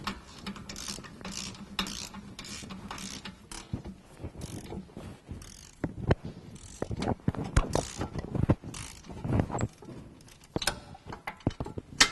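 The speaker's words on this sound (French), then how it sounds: "Vous prenez votre cliquet avec votre 12 et 17 et vous venez débloquer les 4 boulons du moyeu." A ratchet with 12 and 17 mm sockets works loose the four rear wheel hub bolts on a Fiat 500, giving irregular bursts of clicking and metallic knocks, fairly quiet and close, with no talk.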